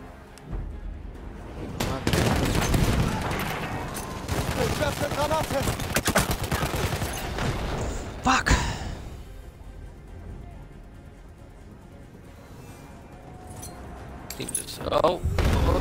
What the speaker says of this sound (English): there's so many explosions everywhere